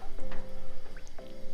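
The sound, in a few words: water being poured into Indian fish curry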